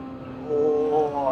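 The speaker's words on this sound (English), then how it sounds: "Revving the nuts off that little engine sitting behind us." Toyota SF23 Super Formula car engine in Gran Turismo 7 at the Nürburgring, a steady high-pitched revving whine that climbs toward the end, heard under someone talking.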